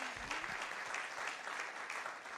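Audience applause for two speakers at a conference session on markets, a steady broadband clapping that fills the clip at moderate level, with no voices over it.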